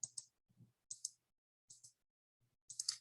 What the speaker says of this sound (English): I'm just clicking. You're clicking and dragging.